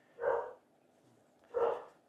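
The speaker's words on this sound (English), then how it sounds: "apart from dogs are barking downstairs" Dogs barking downstairs: two muffled, fairly faint barks about a second and a half apart, heard through the house with nothing else around them.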